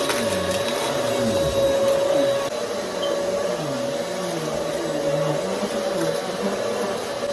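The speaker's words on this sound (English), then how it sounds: "now I'm gonna vacuum this little area over here just so the floor is nice and clean" Vacuum cleaner running steadily on a floor at home, a loud continuous motor whine with a fixed pitch and shifting rumble as the nozzle is pushed around, alone for the whole stretch.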